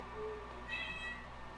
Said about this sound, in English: Firecat's outside. He's screaming really loud.